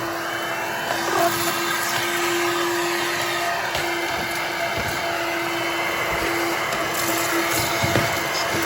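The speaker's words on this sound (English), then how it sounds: "Suction does not feel, that's kind of cool, does not feel as strong on this as it does inside the vacuum" A Coral One handheld vacuum, the hand unit of a 2-in-1 robot vacuum, runs steadily with a loud, even motor roar and a thin high whine, unbroken throughout with no voices.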